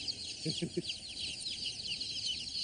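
A packed mass of day-old chicks, 1,200 of them crowded eighty to a box in fifteen boxes, peep constantly in shrill, overlapping chirps, with a few low murmurs beneath.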